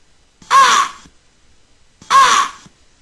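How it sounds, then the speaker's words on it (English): Two harsh crow caws, loud and close, each about half a second long and spaced about a second and a half apart, with silence around them. "Black birds."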